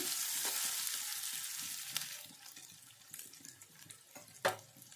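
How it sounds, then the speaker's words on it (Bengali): Onions and green chillies fry in a pan, giving a faint, hissing sizzle that fades gradually, with a few soft scrapes and one brief sharper knock near the end. "পেঁয়াজ লঙ্কাগুলো কিছুক্ষণ ভেজে নিয়েছি।"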